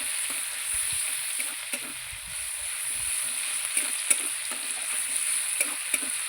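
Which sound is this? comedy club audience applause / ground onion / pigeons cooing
ground onion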